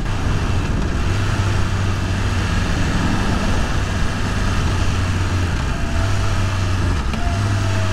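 BMW S1000RR sport motorcycle engine running steadily and loud, a low throbbing hum that rises and falls slightly with throttle, with no talking over it.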